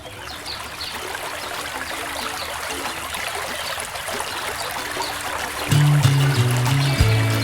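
Creek water flows in a steady, broad rush and trickle, close and constant throughout, with a low droning hum coming in near the end.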